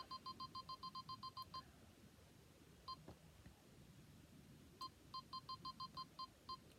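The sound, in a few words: Canon G7X Mark II camera beeping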